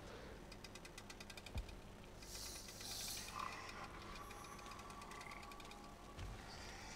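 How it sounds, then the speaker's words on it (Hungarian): Frogs in the video game Papo & Yo croak in a rapid, rattling pulse that runs steadily under a mechanical whir and low game ambience, with a brief brighter swell midway and no talking. "Békák."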